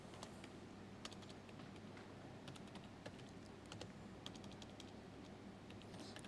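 Quiet, close computer-keyboard typing in an office-software lesson: irregular light key clicks spread across the span over a low background hum, no talking.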